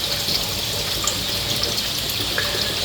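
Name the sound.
water bubbling through a self-siphoning overflow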